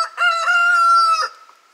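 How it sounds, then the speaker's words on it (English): A single loud rooster crow, close up, with a long sustained middle note that trails off, followed by a short faint call. "That's my good rooster."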